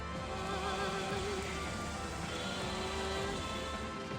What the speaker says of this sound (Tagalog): At kahit bumuhos ang ulan